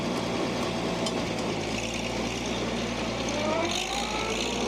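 An Oliver Super 77 tractor engine runs steadily in road gear during food plot work, a continuous low mechanical drone that holds at an even level with no speech.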